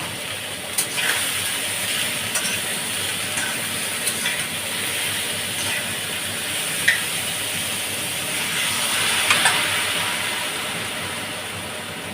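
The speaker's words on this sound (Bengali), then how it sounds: "এবার আমি নুন দিয়ে দেবো লাউয়ে। দিয়ে একটু জল দিয়ে দেবো নেড়েছে।" Bottle gourd with salt and a little water cooking in a pan, a dense steady steaming hiss and sizzle that holds the whole time, with a few faint clicks, close and even, no talking.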